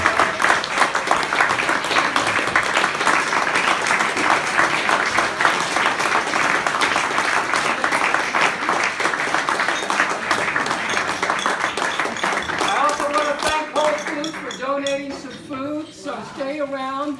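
A standing audience at a Sebastopol city council candidate forum gives sustained, dense applause that carries on for most of the stretch, then thins out as scattered voices and chatter take over near the end.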